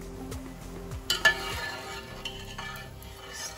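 Rice in a pot of water for chicken biryani is stirred, with a couple of sharp clinks of utensil on metal amid a soft bubbling, simmering background and faint kitchen noise.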